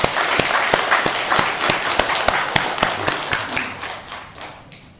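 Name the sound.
congregation applauding in church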